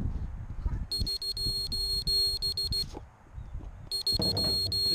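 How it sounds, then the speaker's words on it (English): A Vortex 150 mini drone's locator emits loud, rapid high-pitched electronic beeps in two bursts separated by a short pause, heard outdoors with faint background noise. "What is beeping? Huh? What is beeping? The drone, so I can find it."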